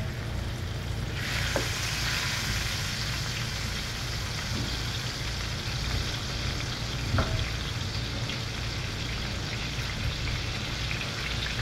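Onions frying in oil in a pan for an egg fry, giving a continuous dense sizzle like steady rain with a couple of faint clinks, close and unbroken, with no talk.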